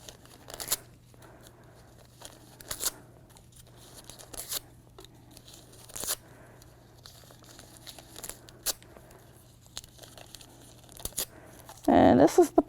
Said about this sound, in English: So first, we're going to tear up some paper